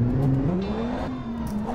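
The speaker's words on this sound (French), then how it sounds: "Un petit dérapage." A car drifting in a racing simulation video game, a steady engine drone that rises and shifts in pitch with a faint tire squeal, close and continuous.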